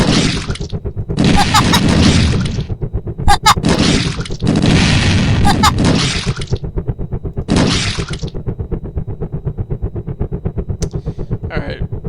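Video game combat with rapid gunfire and heavy booming blasts, loud bursts of noisy impacts alternating with a steady rhythmic pulsing drone, close and dense throughout.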